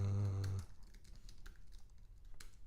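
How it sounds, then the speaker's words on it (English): Clicks of a computer keyboard being typed on in bursts, quiet and close, after a brief loud low hum at the start. "sorry, I'm typing, it's boring."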